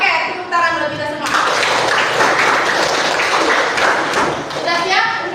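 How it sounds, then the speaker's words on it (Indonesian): A classroom group of children and adults clapping together, a dense burst of applause that holds for a few seconds, with voices chattering around it and a brief spoken word at the start and end. "Oke, tepuk tangan buat kita semua."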